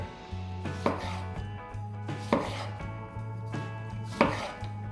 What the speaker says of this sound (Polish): kroję takie plastry